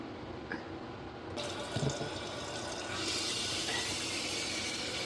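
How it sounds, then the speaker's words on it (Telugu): Tap water runs steadily into a water filter pitcher, a continuous close splashing and trickling stream that grows slightly fuller as it fills. "వాటర్ పట్టేసామనుకోండి."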